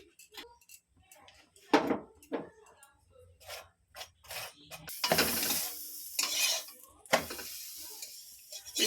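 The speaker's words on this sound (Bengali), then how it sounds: "আমার হয়ে গেছে, আমি বাটার দিয়ে দিচ্ছি।" Butter hits an aloo paratha cooking in a pan, starting with scattered clinks and scrapes that give way to short, fairly loud bursts of sizzling in the second half.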